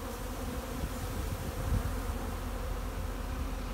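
A steady, dense buzzing of many robbing honeybees swarming close by while honey is pulled from hives, continuous and droning with no voices.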